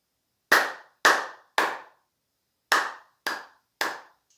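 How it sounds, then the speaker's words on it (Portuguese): Six sharp, bright flat-palm 'star' claps, in two groups of three, crisp and close, with a quick decay after each and silence around them. "A gente tem a palma estrela."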